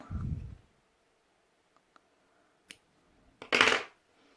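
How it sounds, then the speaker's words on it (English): Scissors snipping crochet yarn, a short crisp cut near the end after a few faint clicks, close and fairly quiet in an otherwise still room. "And we are going to cut the yarn."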